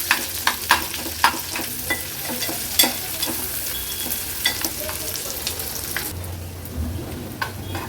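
Chopped onion, garlic and chilli stirred and frying over a medium flame in a pan for an Agri-Koli seafood dish, with a steady sizzle and repeated scraping clicks of the spoon, close and alone.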